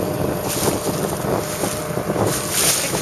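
Strong wind roars across a sailboat at sea, with loud buffeting gusts on the microphone and a steady rush of water and waves beneath.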